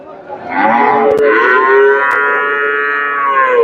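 A single loud, sustained moo from a bull at the Chandaikona cattle market carries clearly for several seconds. It is close and strong, with no talk over it.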